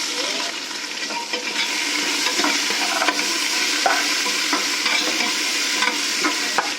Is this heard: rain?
no